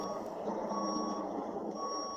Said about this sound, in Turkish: R'yi alıyoruz ve yavaş yavaş geriye doğru geliyoruz